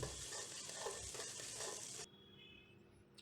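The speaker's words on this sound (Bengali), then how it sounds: "কুচো পেঁয়াজ, গরম মশলা, তেল এবং ঘি সবগুলো একসঙ্গে একটু ভালো মতো মিক্সড আপ করে ভেজে নিতে হবে" Chopped onion, garam masala, oil and ghee sizzle and get stirred in a pan for Bengali bhuna khichuri, a soft, steady fry heard close, then cutting off to near quiet after about two seconds.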